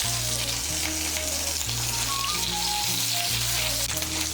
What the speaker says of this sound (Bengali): থেতো করা রসুনগুলোকে একটু ভেজে নেব।